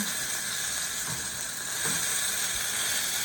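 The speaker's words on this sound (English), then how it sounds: "turn this and get the profile, get a sear on the profile as well" Food searing in a hot pan, turned to brown its sides in a home-lab cooking setting: a continuous loud hiss and sizzle held steady throughout, with faint clunks underneath and no voice.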